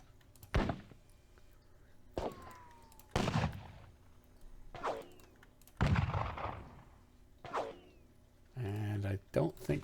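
Cannon and gunfire from a Battle of Dennewitz strategy game battle: about seven heavy booming shots at irregular intervals, each with a rolling decay, ending in a rapid cluster of blasts, fairly loud with faint background between.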